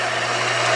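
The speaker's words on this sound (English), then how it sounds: "If it looks like I'm not cutting into it straight, it's because bandsaws always have a bias to them." Bandsaw blade cutting steadily into a metal lower control arm in a workshop, a loud continuous high whine with constant broadband grinding noise and a low hum, no pauses, no voices.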